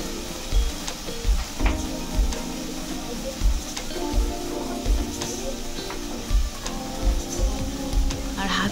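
Turmeric and chili powder hit hot oil in a pan of moong dal tempered with cumin, giving a steady sizzle broken by regular soft knocks and scrapes of stirring, fairly close and without speech.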